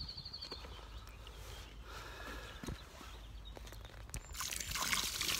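Water poured out at an outdoor spring carp fishing spot, a hissing, splashy rush that starts late and swells louder over a low, steady background rumble.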